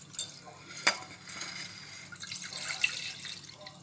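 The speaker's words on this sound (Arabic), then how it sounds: "دابا غادي نديرو الحليب" Milk poured into a pot with flour and butter on a home kitchen stove while making kefta lasagne, a soft trickling, dripping liquid sound with a sharp clink near the start, close up and fairly quiet with no talking.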